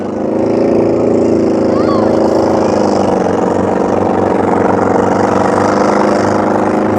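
A vintage American hot rod races along Pendine beach in Wales, its engine a loud sustained throaty roar with a rising pitch as it accelerates, steady and dominant throughout.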